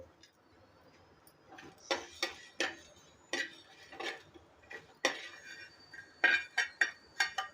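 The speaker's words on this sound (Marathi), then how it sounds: "पहिलं मी धने भाजून घेते" Coriander seeds dry-roasting in a hot pan, a soft irregular run of small clinks and taps of utensil against metal, quiet and close, with no talking.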